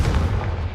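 A Confringo blasting spell explodes in the Hogwarts Legacy video game, a short, heavy boom with a deep rumbling low end that fills the brief moment on its own.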